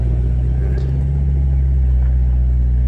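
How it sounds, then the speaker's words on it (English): A convertible car idling or rolling slowly at a car show gives off a steady, loud, low exhaust rumble, close and continuous with no voices. "now I can hear the exhaust on this car"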